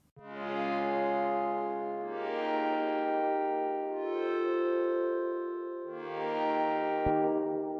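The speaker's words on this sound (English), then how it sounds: "Something they gave me to work with was this harp, which is really cool." Harp treated with limiter, equalizer and echo effects, playing four swelling, sustained phrases that rise and fade smoothly in a soft, continuous flow, with no voices.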